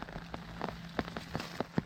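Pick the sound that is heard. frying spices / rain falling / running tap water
rain falling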